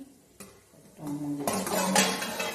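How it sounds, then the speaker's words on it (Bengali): A metal lid lifted off a cooking pot of spicy vegetable fry on a gas stove, giving a short clatter and scrape of metal followed by a louder release of steam and sizzling, close up with no talk. "ঢাকাটা খুলে তোমাদের দেখাচ্ছি।"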